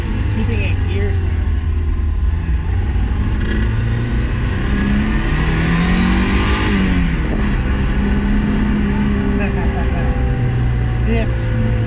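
A Mazda Miata engine revs hard through a newly modified exhaust, a loud continuous drone rising to a peak mid-way and then easing, with someone talking over it.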